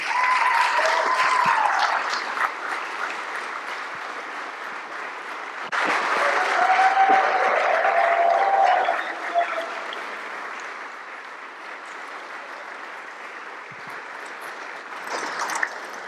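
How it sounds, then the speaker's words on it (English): An audience at an Australian Embassy event gives a long round of applause as guests, including Ange Postecoglou, are brought on stage; the clapping is steady and full, swelling again midway, with voices speaking over it at times. "Let's have a huge round of applause."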